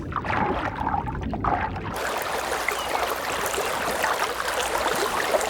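Steady rushing water fills the scene, a broad continuous wash that grows denser partway through, with no voices.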